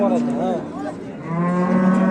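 A cow with a calf moos in drawn-out, wavering calls, loud and close, with a long low bellow running underneath to the end.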